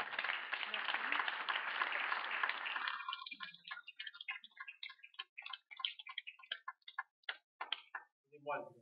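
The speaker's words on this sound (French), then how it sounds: "Je crois qu'on peut applaudir ces 6 années de..." An audience at a professional chapter meeting applauds, a steady wash of clapping for about three seconds that thins into scattered individual claps and taps, heard through a narrow, tinny recording with voices talking afterward.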